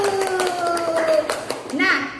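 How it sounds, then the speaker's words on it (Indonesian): Kindergarten children in a Group B class clap along in a light, rhythmic patter, mostly buried under an adult's voice and children talking nearby. "Tepuk tangan dulu"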